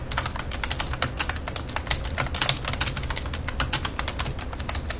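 Rapid, close clicking of a computer keyboard as someone types steadily, the keystrokes falling in quick, irregular bursts with no voices.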